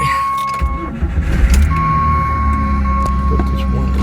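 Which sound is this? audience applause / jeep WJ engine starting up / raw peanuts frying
jeep WJ engine starting up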